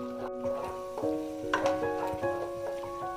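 Ground tomato paste frying in a pan for fish masala is stirred with soft scraping strokes over a faint sizzle, with some tonal background hum, moderately quiet and close.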